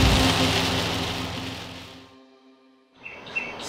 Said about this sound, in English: it's raining very loudly